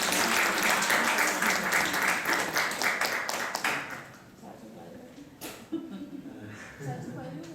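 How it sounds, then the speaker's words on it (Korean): Church congregation clapping in welcome at an Easter Sunday morning service, a dense burst of applause for about four seconds that drops away, leaving a quieter room with scattered sounds. "우리 박수로 한번 환영하겠습니다"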